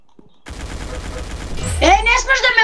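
Rapid automatic gunfire from a first-person shooter game rattles continuously and loudly, with a voice talking over the later part of the burst.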